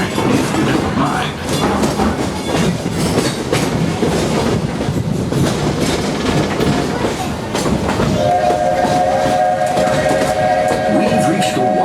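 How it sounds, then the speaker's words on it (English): Walt Disney World Magic Kingdom monorail in motion, a loud, steady rumble of wheels and car noise that runs throughout, with a sustained tonal whistle or chime joining toward the end. "I'll stay safe and sound right here aboard my train"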